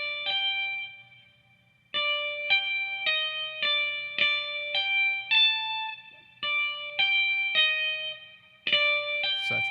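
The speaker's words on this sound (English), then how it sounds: "Let's give it a spring reverb, maybe." A clean electric guitar with spring reverb plays a funk part, a series of crisp plucked chords and notes in a steady rhythm, each with a ringing tail.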